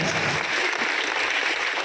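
Applause fills a hall at a Hindi religious discourse, as steady, dense clapping from a large audience rolls on evenly throughout, with no voices over it.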